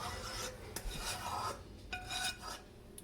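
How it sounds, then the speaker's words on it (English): A spatula scrapes leftover lasagna meat sauce from a pot, giving quiet, close rasping strokes with a few light metallic taps, alone without talk. "I'm just scraping the rest of the sauce in."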